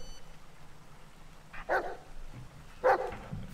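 A dog in the horror video game Blair Witch gives two separate sharp barks, each a short burst over quiet ambient game background.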